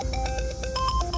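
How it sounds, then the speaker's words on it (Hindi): A mobile phone ringtone plays a bright electronic melody of quick stepping tones, loud and close with no voices over it. "तेरा फोन बज रहा है।"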